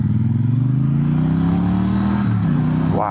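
A 2022 Triumph Bonneville T100 Gold Line motorcycle pulls hard on a mountain road in North Wales, its engine note loud and close, rising steadily with a rough throb, then dropping and revving again at the end.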